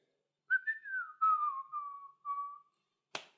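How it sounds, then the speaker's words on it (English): A person whistles a short, wavering tune alone, a few sustained notes that drift gently downward, close and fairly quiet, followed by a brief sharp noise. "Yes, and I'm still whistling."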